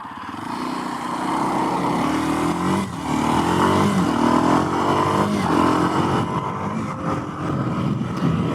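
A Kawasaki KLX230 dual sport motorcycle on dual sport tires rides through turns and corners, its engine droning loud and steady with rising and falling pitch as it accelerates and eases, mixed with rushing wind.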